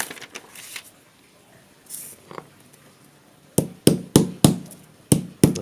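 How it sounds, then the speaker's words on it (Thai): A series of sharp, loud impacts in quick succession, like hammer blows striking something hard, following a few quieter scrapes and taps. "ใช้ค้อนนี่แหละครับทุบ"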